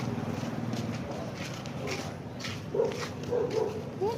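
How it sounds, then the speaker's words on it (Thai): A dog growls and barks a few times over a busy outdoor background with people talking nearby, the barks brief and moderately close in the latter half. "หมาเห่าหมาเห่า"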